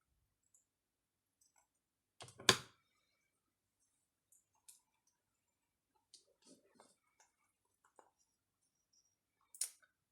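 Paper being cut by hand for a small shabby-style notebook: one loud close snip and crinkle, then scattered faint clicks and rustles in a quiet room, ending with another sharp snip.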